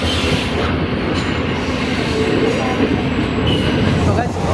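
A train departs Damdim railway station in the Dooars, its wheels rumbling and clattering loudly and continuously over the rails as it gathers pace, with a faint squeal and voices beneath.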